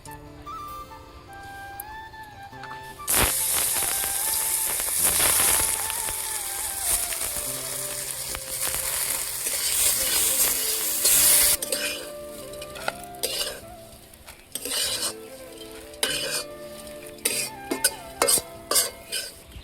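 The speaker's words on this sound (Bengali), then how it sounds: "প্রথমে আমি গোবিন্দভোগ চালটাকে ঘি দিয়ে ভেজে নেব" Gobindobhog rice frying in ghee in a pan, stirred with a metal spatula that scrapes and clinks against the pan over a steady sizzle, close up, with background music throughout.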